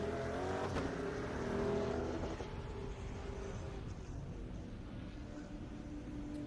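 An autocross car launches and drives the course at a Daytona solo event, its engine revving loudly at first and then settling into a steady, slightly more distant drone.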